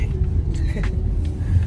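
Riding inside a car, the Odyssey, gives a steady low engine and road rumble throughout, with faint cabin noises and brief higher swishes over it.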